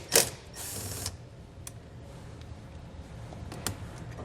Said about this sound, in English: So we'll use a 12mm socket to remove the nut here.